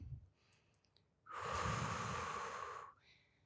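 A single long, airy breath, clearly audible and close, lasting about a second and a half after a few faint clicks.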